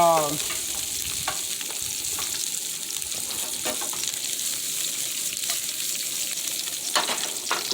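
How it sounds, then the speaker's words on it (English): Rice browning in a pan for mushroom risotto, giving a steady close sizzle and frying hiss with soft stirring scrapes throughout, no voices. "we want to try to brown this rice a little bit"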